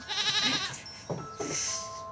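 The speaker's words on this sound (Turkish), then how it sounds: "bahçede keçi var" A goat bleats once with a wavering, drawn-out cry, followed by a couple of short, softer sounds nearby.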